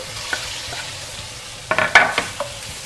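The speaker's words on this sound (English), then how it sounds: "And we're gonna pop our chicken in." Chicken sizzles in a hot pan with a steady crackle and a few sharper pops. No one speaks.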